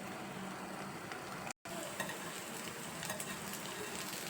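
Green gram paniyaram batter sizzles steadily in a covered pan, a constant close frying hiss with a brief dropout midway and no talking.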